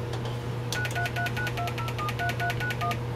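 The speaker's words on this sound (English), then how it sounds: "it will redial the phone number for us." A telephone tone generator chip (W91312 or T25089) redials a stored number: after a short pause, a quick run of about a dozen crisp DTMF beeps sounds in steady rhythm over a constant low hum from a speaker.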